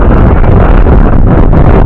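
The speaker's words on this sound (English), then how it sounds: "The wind really picked up, blew us all over the place in the canoe" Strong wind buffets a canoe in Hockamock Swamp, a loud, steady roaring rumble that blasts the microphone for the whole stretch with no break and no other sounds.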